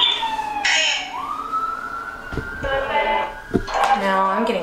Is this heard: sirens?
yes